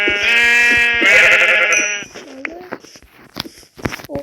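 Sheep bleat loudly at close range in two long, wavering calls, followed by quieter shorter bleats and scattered knocks and rustles.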